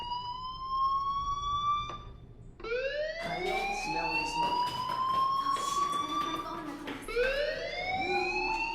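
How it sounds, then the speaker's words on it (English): A fire alarm rings in the Life is Strange video game, a loud electronic wail whose pitch sweeps in repeated rising tones, stopping briefly and restarting, with faint talk beneath it. "Hey, do you hear that fire alarm?"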